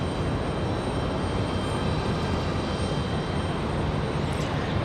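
A FedEx aircraft taxiing at Raleigh Durham airport, its engines giving a steady, broad rumbling roar with a thin whine on top, moderately loud and unbroken, with no speech.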